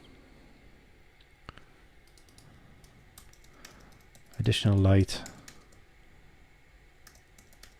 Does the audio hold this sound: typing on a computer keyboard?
yes